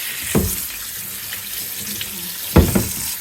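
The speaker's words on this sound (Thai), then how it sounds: "แล้วก็เปิดน้ำเย็นนอกเลยค่ะ" Cold water gushes from a kitchen tap onto cooked shrimp in a sink, a loud steady rush with two sharper splashing bursts as the flow hits the food.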